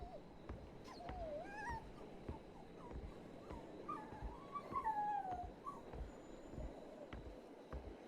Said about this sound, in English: you gotta quit making sound or they're gonna come find you.